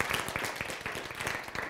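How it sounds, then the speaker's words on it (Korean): Clapping from a church lecture audience on a Bible-and-science course, steady and moderately close throughout, with a voice faintly present underneath. "박수."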